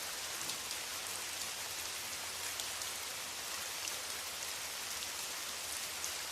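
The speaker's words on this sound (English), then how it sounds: "The rain poured down in sheets, a steady beat that filled the air" Heavy rain pours down steadily in a dense, continuous hiss with no let-up, close and evenly loud throughout, with no voices.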